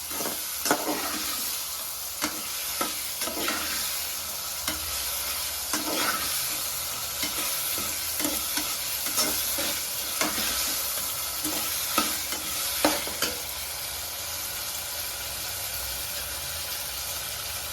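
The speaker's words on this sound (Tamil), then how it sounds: "தக்காளி லைட்டாக கொலையேற்றுறோம்" Tomatoes fry and sizzle in a pan for a chicken gravy, a steady loud hiss running throughout with regular stirring scrapes and knocks of the spoon against the pan, close up with no talking.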